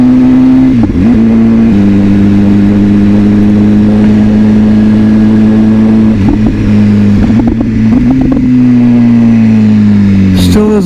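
A BMW motorcycle engine hums steadily while riding a dirt road, a loud, even drone close by with a few brief dips and rises in pitch as the throttle shifts, wind noise mixed in and a voice speaking over it.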